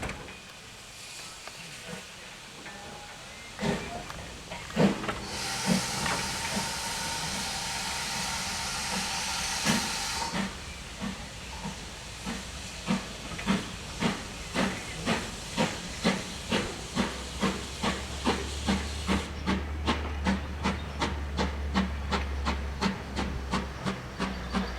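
Steam locomotive 5526 pulls away from a station on the South Devon Railway toward Buckfastleigh, a loud hiss of escaping steam giving way to steady rhythmic chuffs that quicken and settle into an even beat, with a low rumble beneath.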